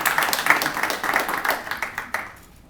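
An audience gives a short burst of hand clapping after a speaker's remark, a brisk patter of claps that swells and then trails off into quiet.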